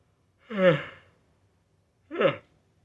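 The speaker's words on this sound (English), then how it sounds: "I am yawning a lot today." A man yawns twice, each a drawn-out breathy exhale, alone in a quiet room with silence between them.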